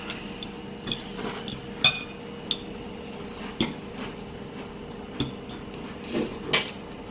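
A fork clinks and taps now and then against a plate of speedy chicken and noodles topped with peanuts and spring onions. The light clicks are scattered and close, with no talking.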